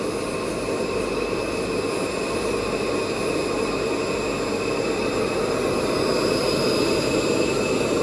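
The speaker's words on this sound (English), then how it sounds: "the air from that blower is going straight into the bead now and the bead is cleaning" Air blower pushing air into the bead chamber of a Nexus 320 pond filter, a loud, steady, close roaring hum with a constant high whine, unbroken throughout.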